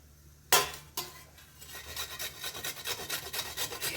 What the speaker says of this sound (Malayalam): ഇനി വേണ്ടത് ഒരു ക്യാരറ്റാണ് ഞാനിത് തൊലി ചെത്തി മാറ്റിയതാണ് ഇതൊന്ന് ഗ്രേറ്റ് ചെയ്തെടുക്കാം